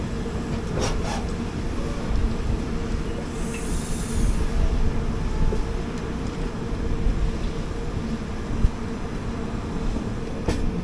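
Train 12202 Kochuveli–Lokmanya Tilak Garib Rath Express running in Kerala, heard from on board as a continuous loud rumble and rattle of wheels on track, with hiss and faint squeals throughout and no talking.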